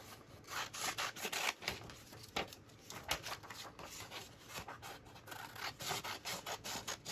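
Scissors trim around a paper card, making repeated close snipping and rubbing scrapes in an uneven rhythm throughout.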